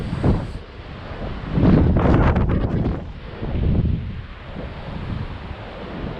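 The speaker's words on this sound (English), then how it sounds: "So it's going to be a little bit windy out here." Wind gusts on Tasmania's northwest coast, roaring and buffeting the microphone in uneven surges over a low wash of sea.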